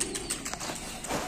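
Pigeons cooing softly at a backyard coop where chicks are being let out, several low murmuring calls repeating in short bursts against steady outdoor background noise.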